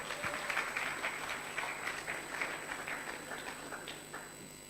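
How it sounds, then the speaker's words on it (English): Audience applause at an entrepreneurship event, a steady wash of clapping at moderate distance that holds for a few seconds without talk. "I'd like to give a round of applause to my father sitting here and my mom there"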